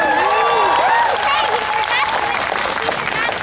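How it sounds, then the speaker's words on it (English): Crowd applause rises and holds through a fire-whip street performance, with a voice calling out over the clapping. "The crack, the flip, the catch, the applause"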